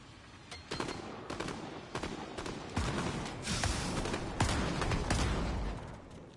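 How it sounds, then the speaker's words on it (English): Bursts of gunfire in a Fortnite match ring out in rapid, irregular volleys, with several loud cracks and sustained automatic fire close by, building over a few seconds and then easing off. "knowing they're shooting right below me"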